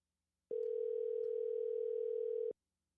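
A steady, unbroken telephone dial tone holds for about two seconds while a call is placed to a friend, starting and stopping abruptly, with no talking over it.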